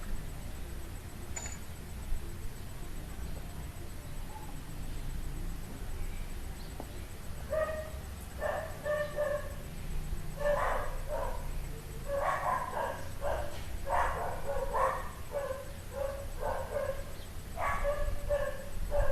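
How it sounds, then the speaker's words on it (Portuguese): Dogs bark in repeated bursts somewhere off at a moderate distance, starting sparsely and then coming in quick clusters of woofs for over ten seconds, with quiet room background and no talk over them. "Os cachorros não estão dando mole hoje não, né?"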